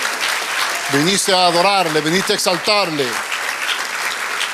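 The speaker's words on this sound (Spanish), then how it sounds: "Aplaude, aplaude, bendícele." A church congregation applauds steadily, a constant bed of clapping running throughout while a preacher speaks over it.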